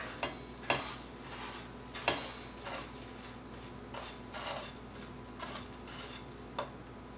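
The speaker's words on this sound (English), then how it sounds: "just give it a gentle stir" A spoon gently folds ambrosia salad of mandarin oranges, cherries and coconut in a bowl, giving a run of soft, close scrapes and light clinks against the bowl at an unhurried, irregular pace.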